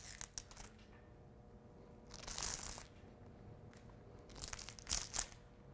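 A Bluedog BWS38 MFDA drill-powered wire stripper peels the coating off copper wire, giving two faint, short bursts of crackling, tearing crunch with quiet gaps between them.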